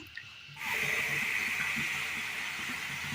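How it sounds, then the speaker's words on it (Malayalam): A sudden rise into a steady hiss and bubbling of beetroot juice coming to a boil in a pan close by, constant with no talking. "ആ ബീറ്റ്റൂട്ടിൻ്റെ വെള്ളം അങ്ങനെ ഒന്ന് തിളച്ച് ചെറുതായിട്ടൊന്ന് കുറുകി വരുന്നുണ്ട്"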